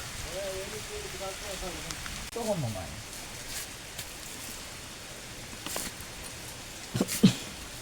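Heavy rain pours at a rock cave on Maavaragala mountain in Dambana, a soft, steady hiss of falling water running throughout while people talk intermittently and faint clunks sound near the end.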